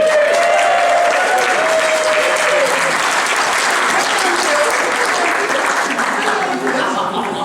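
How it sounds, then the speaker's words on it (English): A theatre pantomime audience applauds and cheers loudly and steadily for the full stretch, a dense wash of clapping with scattered whoops and a few voices on top, easing only slightly toward the end. "Let's give him a cheer."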